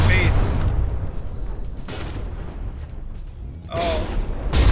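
Cannon fire in the video game From the Depths comes as a few heavy booms over a dense rumbling battle background, with one sharp blast near the start and another burst near the end, while a voice comments.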